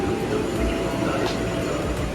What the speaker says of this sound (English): So my train has just arrived.